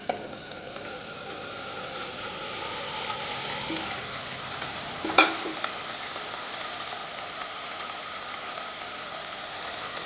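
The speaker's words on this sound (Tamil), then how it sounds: "மட்டன் போட்டு 1 நிமிஷம் நல்லா வதக்கிடுங்க." Cooked mutton pieces fry in a pan with softened tomato masala, giving a steady, moderate sizzle like light rain, with one sharp utensil clink midway and no talking.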